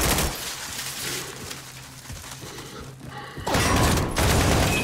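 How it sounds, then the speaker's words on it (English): Gunfire from above in the Call of Duty: Modern Warfare (2019) campaign, a steady rattle of shots with dull thuds, swelling into a louder, denser burst near the end. "Who the fuck is shooting?"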